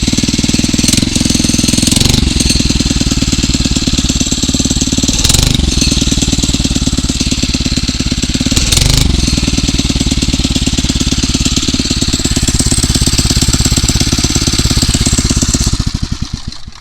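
A Phatmoto Rover 79cc motorized bicycle engine runs loud and close to the mic for the whole time, a steady rapid-firing two-stroke-style buzz with a few brief revving bursts, then cuts off at the end.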